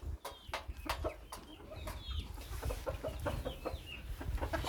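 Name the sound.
chickens and ducks on a farm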